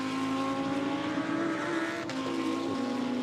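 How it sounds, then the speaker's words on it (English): GT2 race cars at Monza in 2021, including an Audi, sweep through the Rettifilo chicane with a sustained, loud engine drone that shifts pitch as they brake and pass close by, with a brief tire squeal. "Luca Piri and Michael Vergas, as they come through the Rettifilio chicane"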